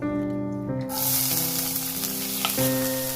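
Chopped onions and cumin hit hot oil with a sudden sizzle, which then settles into a continuous, moderately loud frying hiss under a faint sustained tone, with no one talking.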